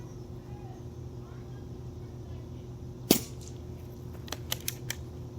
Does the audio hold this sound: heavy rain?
no